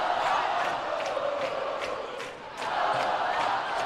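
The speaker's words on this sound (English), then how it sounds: "HSE crowd going, student section is starting to go absolutely nuts" A boys basketball crowd in overtime, with the student section roaring steadily, a broad sustained cheer with sharp shouts and claps popping through, dipping briefly before surging again.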